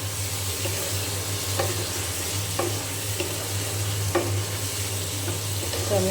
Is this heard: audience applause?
no